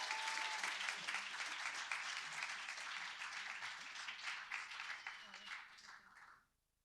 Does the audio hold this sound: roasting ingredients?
no